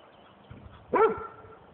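A single short dog bark or yelp, fairly close, after a brief soft thump from a high leap, with quiet background otherwise.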